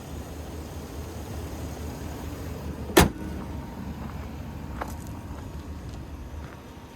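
A 6.6 liter naturally aspirated gas engine idles steadily in a 2025 Explorer high-top Express 4x4 conversion van, a low, even hum heard up close, broken by one sharp click midway.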